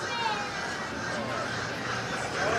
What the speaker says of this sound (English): these birds are really loud this morning